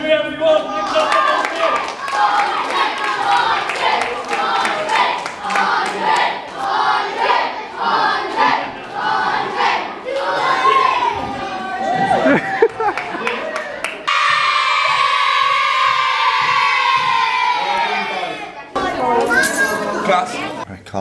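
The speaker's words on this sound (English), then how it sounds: "Let's give a massive clap for Andre, everyone" An audience claps and cheers for a child's stage presentation, with rapid hand claps, lively chatter and shouts mixing in a busy room, and voices talking over the noise throughout.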